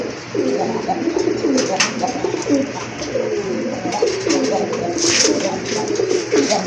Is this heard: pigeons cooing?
yes